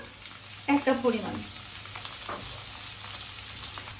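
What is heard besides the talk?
carrots frying in pan for vegetable stir-fry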